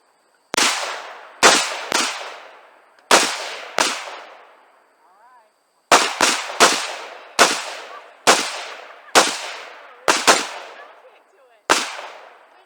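Rifle shots fired from a boat: a dozen loud, sharp cracks with long echoing tails, some in quick pairs, spread unevenly across the stretch with short gaps.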